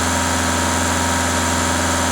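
A Skoda Octavia diesel engine idles close by with a steady, even rumble and droning hum, its exhaust even, loud and unchanging throughout.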